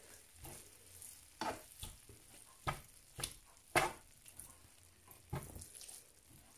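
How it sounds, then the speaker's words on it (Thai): Thai chili paste being stir-fried with fried pork in a pan over low heat, a soft steady sizzle broken by repeated scraping strokes of a spatula, fairly quiet and close, with no voices. "แล้วก็ผัดไปเรื่อย"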